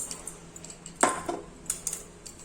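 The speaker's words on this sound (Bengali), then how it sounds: "আধ বাটি মুগের ডালটা আগে শুকনো কড়ায় নেড়ে নেব" A spoon stirs moong dal in a dry metal wok, giving sparse, sharp clinks and scrapes with one stronger knock in the middle, close and fairly quiet.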